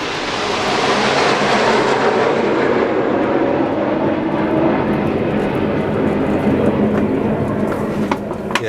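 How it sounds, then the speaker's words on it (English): Red Arrows aerobatic jets pass overhead in a loud, sustained roar heard from a workshop, the broad engine rumble holding steady for several seconds before easing near the end. "Yes, that was the red arrows going over"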